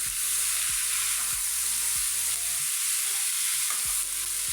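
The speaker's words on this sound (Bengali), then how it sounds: "এবার খালি কষবো।" A banana blossom mixture sizzles in a pan. A utensil scrapes and stirs it in a regular rhythm over a steady bright frying hiss, and no one speaks.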